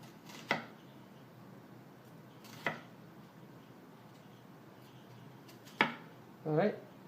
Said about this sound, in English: then I turn it the other way and I start cutting this, chopping it